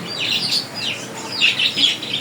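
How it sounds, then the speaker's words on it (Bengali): Birds at a pigeon shop selling many breeds of pigeons and parrots, a few high chirps and tweets repeating in short bursts, moderately close, without speech. "অনেক কবুতর আছে মাসাল্লাহ"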